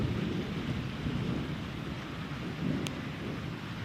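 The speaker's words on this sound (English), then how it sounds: "we'll just watch out for the severe thunderstorm." Thunder rumbles through a severe thunderstorm moving south from State College, a broad low roll over steady heavy rain and wind, with one brief sharp crack near the end and no one speaking.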